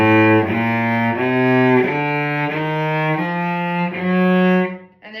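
Cello played fortissimo through the opening measure of a repertoire excerpt: a loud, close sequence of sustained bowed notes moving stepwise in pitch, with no talking, ending in a brief fade.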